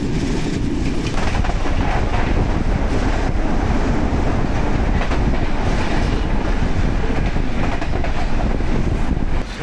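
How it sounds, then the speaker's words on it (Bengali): Padma Express train rumbles into Abdulpur junction on a cold, windy night, with a loud continuous roll of wheels and carriages, steady clatter and heavy wind buffeting the microphone throughout. "সামনে আমাদের ট্রেন ঢুকতেছে আব্দুলপুর জংশনে"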